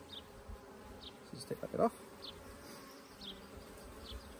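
Honey bees buzz faintly around an open hive during an inspection, soft scattered drones rising and fading with a few closer passes, under quiet speech and small scraping handling noises.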